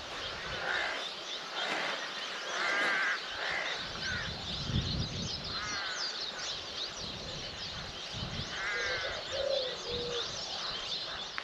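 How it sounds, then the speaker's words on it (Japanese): Many island birds call together at dawn on Taketomi Island in the Yaeyama Islands, around half an hour before sunrise by a calm sea: steady chirps and tweets with doves cooing, layered near and far, with no talk. "日の出の30分ぐらい前から島内の鳥がみんな鳴き始めるんですよね"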